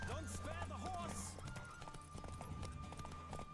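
A horse galloping in The Witcher 3, rhythmic clip-clop hoofbeats running steadily under a speaking voice, with a brief whinny-like sound early on.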